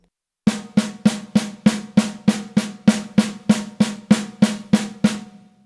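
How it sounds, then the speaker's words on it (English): A steady paradiddle on a drum kit, crisp strokes evenly spaced at about three per second, played alone with a snappy attack and short ring on each hit. "Let's take one pattern, a paradiddle"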